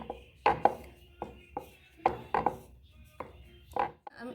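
Rolling pin pressed repeatedly over a fresh bread slice to flatten it thin, giving a series of soft, close rubbing and thudding strokes in an irregular rhythm.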